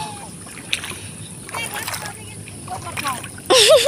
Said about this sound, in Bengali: তো দেখো জল পাড়াইতেছি।